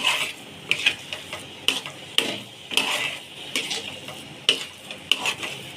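A spoon scrapes through sweet boondi ladoo mixture in a pan, giving about a dozen close, rhythmic stirring strokes at a steady pace, with no voices.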